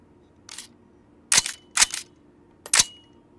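A rifle bolt is worked in a VR shooting game, giving four short, sharp metallic clacks. One faint clack is followed by three loud ones about half a second apart, with silence in between.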